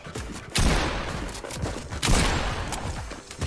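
Rapid bursts of Primal SMG fire in the Fortnite video game, loud and dense with two heavier volleys, no talk over it.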